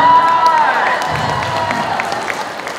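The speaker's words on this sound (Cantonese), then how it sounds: "掌聲唔該！" At a school singing contest, an audience of children and adults cheers and claps after a magic performance, a loud, dense wash of applause and shouting that gradually settles.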